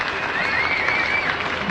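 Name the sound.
cricket crowd applauding a batsman's fifty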